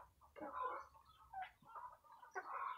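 Farm poultry newly bought at a fair cluck and call softly after corn is thrown to them, scattered quiet bird sounds in a calm outdoor setting.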